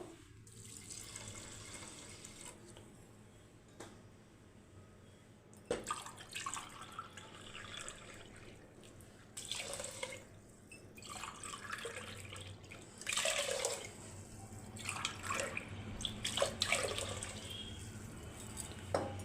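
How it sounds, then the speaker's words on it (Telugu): Four glasses of water are poured onto basmati rice in a pot for Rayalaseema-style chicken dum biryani. Several splashing, gurgling pours come in separate bursts with short pauses between them, close and moderately loud. "నేను బాస్మతి రైస్ తీసుకున్నాను కాబట్టి ఫోర్ గ్లాసెస్ ఆఫ్ వాటర్ పోస్తున్నాను"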